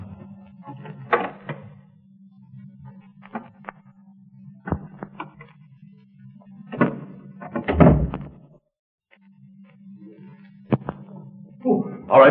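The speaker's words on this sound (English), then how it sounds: "He's prying the knob." A door knob is pried and rattled in an old-time radio police drama: scattered clunks and thumps near 1, 7–8 and 12 seconds, with a louder burst around 8 seconds, over a steady low hum and no speech.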